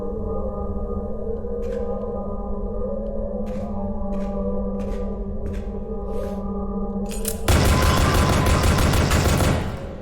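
A bolt gun fires in the video game Dread X Collection: several short sharp shots over a humming droning ambience, then a dense loud burst of rapid fire lasting about two seconds.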